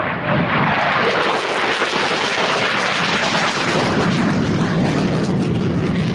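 An RC model airplane flying, its engine a loud, steady roar that stays close and continuous throughout, with no talking.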